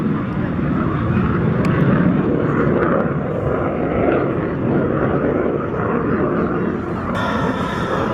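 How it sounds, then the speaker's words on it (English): A jet roars overhead at an air show, a loud, broad, continuous rumble with the afterburner lighting up, heard outdoors with a brief swell near the end. "Now watch the afterburner to come on."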